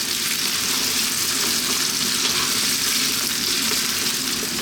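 Raw potato pieces frying in a pan over lively heat for a potato chicken curry, giving a steady, even sizzle that holds unbroken throughout with no voices.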